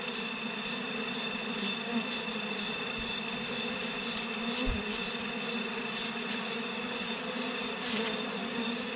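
Wild honey bees swarm around a hive in a forest, a dense, steady buzzing hum that holds at close range throughout with no talking.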